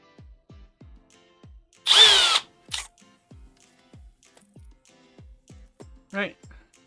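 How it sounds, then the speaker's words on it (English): A power drill with a standard 3/32 bit bores a hole while building a pan-tilt camera mount. There are several short, sharp whirring bursts, the loudest lasting about half a second, separated by quiet ticking sounds. "So let's go ahead and drill that out."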